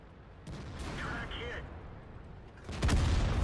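A tank cannon booms in World of Tanks, the M26E4 Super Pershing battle, a single heavy shot arriving late as a loud low-end blast over a steady rumbling game backdrop, with faint speech earlier.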